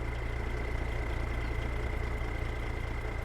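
A tractor engine in Farming Simulator 22 runs steadily at low pitch, a constant close drone with a knocking undertone as it labours under load, heard alone without talk.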